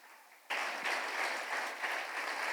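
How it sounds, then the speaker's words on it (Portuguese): A church congregation breaks into applause for a member during a Portuguese-language sermon, the clapping starting abruptly and carrying on steadily as a dense, moderately loud wash of many hands. "Palmas para o Ivan novamente."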